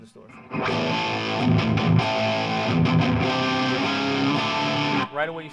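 An electric guitar runs through a Boss Digital Metalizer distortion pedal into a 20-watt Marshall JCM 800 amp, a thick, loud distorted riff sustaining for several seconds before stopping abruptly.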